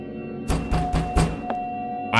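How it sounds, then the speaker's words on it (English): Loud knocks bang on a door in a Duolingo horror video game: four heavy, evenly spaced thuds, then a lighter single knock and another thump, over a steady electronic game hum. "bro was banging on my door"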